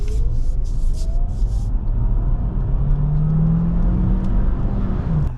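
A 2025 Kia Sportage plug-in hybrid accelerates hard from a wet spot, its steady road rumble and whirring drivetrain rising in pitch as it pulls away, loud and continuous with no talking.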